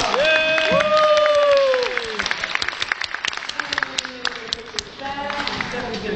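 Audience applause at a high-voltage science show, clapping from the seated crowd that starts under talking voices and thins into scattered individual claps toward the end.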